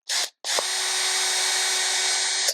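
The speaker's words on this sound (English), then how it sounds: "I want to drill that hole out." A power drill bores out a hole in a metal bracket held in a vise: a short burst, a brief pause, then a loud, steady whine for about two seconds, close up.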